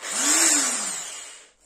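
A Sturm ID21105KP corded impact drill, 1050 W, run briefly in hammer mode, a harsh whirring buzz that spins up, peaks and winds down over under two seconds, close and alone.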